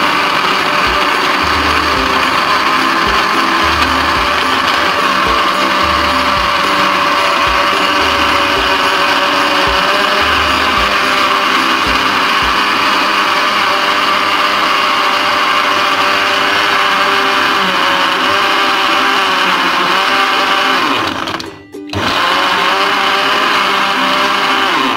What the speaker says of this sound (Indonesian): Ya langsung saja kita blender ya